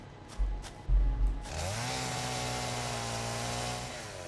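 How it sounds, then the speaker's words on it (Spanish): A chainsaw in Satisfactory revs up after a couple of thumps and then holds a steady, buzzing motor drone at moderate loudness. "No sé si ha escuchado la motosierra"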